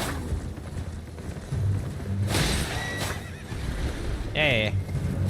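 Horse neighing in the video game Elden Ring, a clear whinny near the end over steady clip-clop hooves and background game noise, with someone talking over it.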